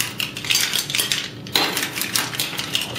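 Mussels in their shells go into a bowl with clattery, clinking knocks of shell against dish, in a steady close cluster of small impacts and no talking.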